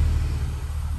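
A Honda K24 engine in an Integra, fitted with a Skunk2 Ultra Race intake manifold and a 90mm throttle body, idles with a steady low rumble, close up and even for about a second, with no talking.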